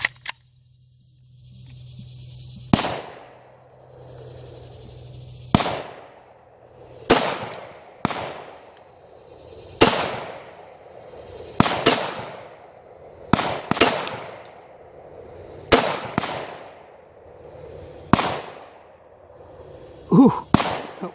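Loud, sharp .45 ACP pistol shots loaded with shotshell powder crack out at an outdoor range, about a dozen single reports spaced a second or two apart, each with a brief echoing decay.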